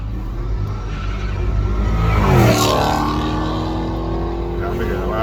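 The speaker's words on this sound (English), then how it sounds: "Driving a car like that, everybody, the cop know you coming. Making too much noise." A loud engine revs and roars past up close, pitch rising then sweeping down as the vehicle passes, with a steady rumble throughout.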